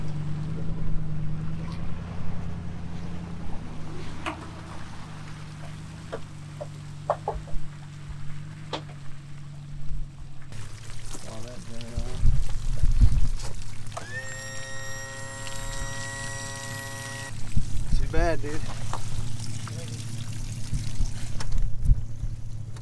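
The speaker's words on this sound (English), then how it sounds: "Gonna fire up the boat, head back to the ramp, load it up" A motorboat engine drones low and steady on the water, interrupted by clunks and scrapes, with a rising whine of tonal noise midway.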